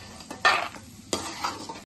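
Cashew nuts frying in hot oil in a pan, a near sizzle with two bursts of stirring and scraping against the metal, the first louder, then a quieter hiss, no talking.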